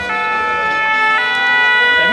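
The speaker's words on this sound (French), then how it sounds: "Voilà les pompiers qui arrivent." Fire engine siren as firefighters arrive at an outdoor event, a loud, steady wailing tone held throughout, close by, with traffic rumble beneath.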